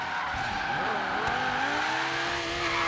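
Car spinning out in the racing game Forza Horizon 3, with a sustained loud tire squeal and skid sliding in pitch over steady engine noise for the full length.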